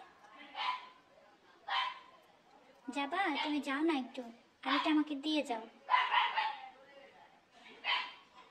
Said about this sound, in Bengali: কুকুর কেন কাঁদছে?